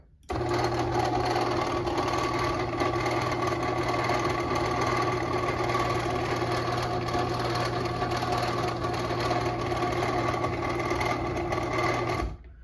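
Steady mechanical whirring and humming of a Moore-O-Matic Ultra Lift garage door opener, running continuously at even volume before cutting off abruptly at the end.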